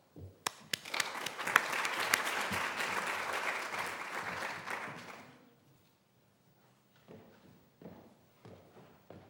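A conference audience at a water-sector event in Stockholm bursts into loud, sustained applause welcoming a speaker, with sharp claps over a dense roar for about five seconds before it fades to quiet room sounds and a few faint thumps.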